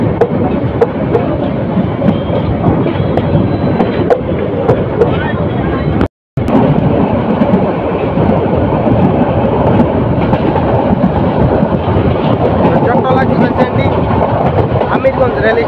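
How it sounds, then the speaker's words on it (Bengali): The Chottola Express, running from Dhaka to Chittagong, pulls out of Narsingdi station with a loud, continuous rumble and rhythmic rail clatter, broken by a brief dropout, while voices carry over it. "চট্টলা এক্সপ্রেস ট্রেনটি নরসিংদী থেকে ছেড়ে যাচ্ছে।"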